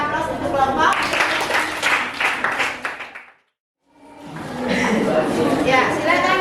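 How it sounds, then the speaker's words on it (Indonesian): A classroom of students gives a group sustained applause, dense clapping for about three seconds that stops briefly, then another long round of clapping. "Aku kasih aplaus untuk kelompok"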